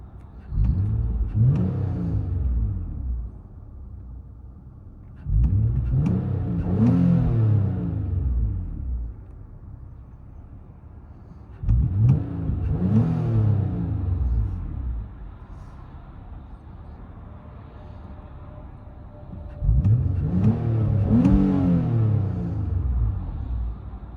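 A 2011 Nissan Altima SR with a 3.5L V6, high-flow cat and Borla S-Type exhaust revs four times from inside the cabin, each rev a deep, rising engine roar that falls back to a low idle rumble.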